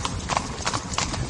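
Horse hooves clip-clopping at a Lipizzaner stud farm in Slovenia, a quick, steady rhythm of hard clopping steps at close range, with voices faintly underneath.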